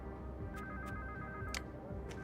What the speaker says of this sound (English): Do I answer that phone?